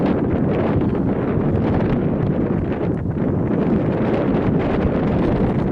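Steady wind blows across a dome-shaped hilltop, buffeting the microphone in a continuous, loud broadband roar with slight gusting swells and no voices.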